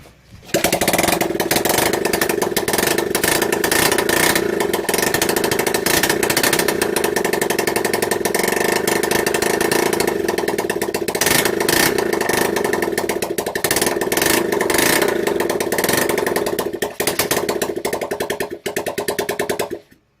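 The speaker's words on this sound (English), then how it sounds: "There we go, it runs." A Honda XL 125 motorbike engine, built from junk parts, runs steadily and close up for about twenty seconds, with bursts of revving over a rough idle and no talking.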